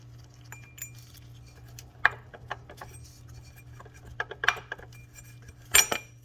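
Removing the four water pump pulley bolts on a BMW E46 M3 S54 engine: scattered light metallic clinks and tool taps, close and fairly quiet, over a low steady hum, with a sharper rattle near the end.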